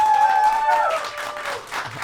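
Live crowd applauding at an esports show during a Dota LAN event at the Stockholm Major, a loud sustained burst of clapping and cheering that tapers slightly toward the end.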